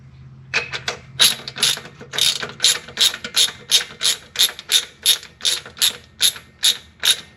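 A ratchet wrench clicks through rapid, evenly spaced bursts while tightening bolts on a vintage Porsche 911 engine during a rebuild, the close, sharp ratcheting repeating steadily with no talk.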